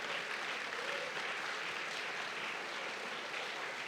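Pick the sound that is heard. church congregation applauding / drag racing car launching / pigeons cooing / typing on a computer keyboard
church congregation applauding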